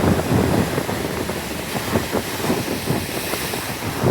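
Sea waves surging and breaking at Pommipalayam Beach in Pondicherry, a steady loud roar of surf with wind buffeting the microphone throughout, no voices over it.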